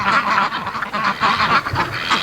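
Muscovy ducks come home muddy from playing, giving a close run of short, breathy quacks and honking calls in quick succession, with no talking.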